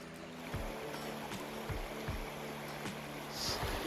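Splashing, sloshing steps through cold, yellowish river water at a ford, at a steady walking rhythm, close by, over a constant rush of flowing water, no talking.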